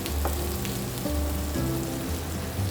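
A beef burger patty sizzles on a grill set to 180 degrees Celsius: a loud, continuous broadband hiss over a low electrical hum from the appliance, no talking.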